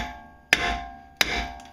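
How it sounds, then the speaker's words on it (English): A persuader hammer strikes a car's brake rotor to loosen it, two sharp metallic clangs about 0.7 seconds apart, each ringing briefly before fading. "all you need to do is get a persuader and loosen up this rotor"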